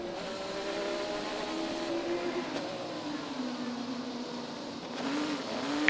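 An IndyCar race car's engine drones steadily onboard on the Long Beach street circuit, its pitch rising and falling through gear changes, heard from the cockpit at moderate, even loudness.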